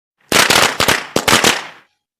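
Firecrackers set off for Diwali burst loudly in a rapid, irregular string of sharp cracks and bangs over about a second and a half, then stop abruptly.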